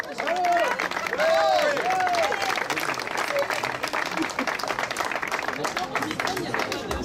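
An audience at a women's race awards ceremony applauds a podium finisher, dense sustained clapping throughout with a crowd murmur and a voice talking over it.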